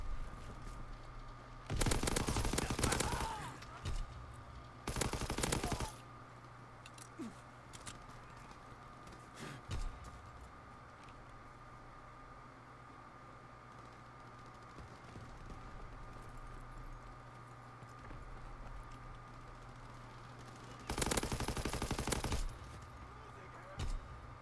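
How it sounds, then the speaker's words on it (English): An MG machine gun fires in Call of Duty WWII, with loud sustained bursts near the start, a shorter one a little later and another near the end, separated by quieter game ambience. "I sit on my MG."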